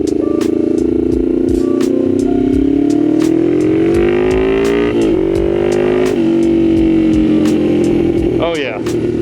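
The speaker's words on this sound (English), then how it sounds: "I'm actually able to get this thing to rev out a lot better than I was before." A Yamaha XS400 motorcycle engine, freshly tuned with a 6 Sigma jet kit, runs loud and close, its pitch climbing and sagging through several strong revs before easing near the end.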